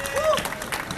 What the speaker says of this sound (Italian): Un applauso al borgo